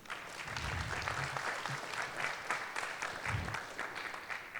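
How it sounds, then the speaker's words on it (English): An audience at a community forum on suicide prevention gives a round of applause, a dense, steady clapping that holds at even loudness throughout. "applause"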